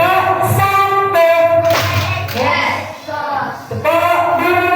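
Schoolchildren in a classroom do a clapping routine, with loud rhythmic hand claps landing under and between their chanting voices, close and energetic.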